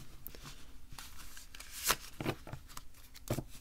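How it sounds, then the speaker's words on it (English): Small oracle card deck being riffle shuffled by hand, a few quick ruffling bursts of card flutter with soft taps between, close and fairly quiet, with no talking. "It's super easy to riffle shuffle"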